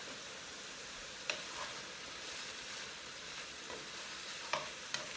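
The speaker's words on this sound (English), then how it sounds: "The meat is still cooking." Pork for tacos frying in a pan gives a steady, faint sizzling hiss with a few scattered pops and ticks.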